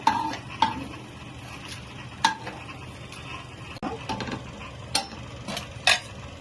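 Red chillies and mint leaves dry-roasted without oil in a pan, soft scattered clinks and scrapes of a spatula at irregular intervals over a quiet background, no voices.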